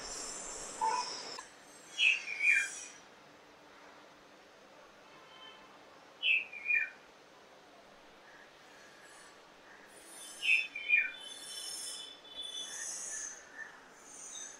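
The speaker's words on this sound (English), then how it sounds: "So you can see that it has identified red-vented bulbul." Red-vented bulbul calling outdoors, three short clear chirping phrases repeated at intervals, moderately near, over a low background hum.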